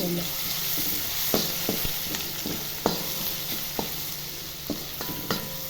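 Garlic sizzles in hot oil, a steady frying hiss broken by repeated clicks and scrapes of stirring, up close and moderately loud.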